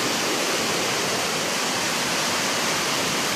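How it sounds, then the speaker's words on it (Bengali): Rainwater pours steadily off a roof during heavy rain, a dense, continuous rushing wash of water that stays loud and unbroken throughout. "ছাদের জল নামে"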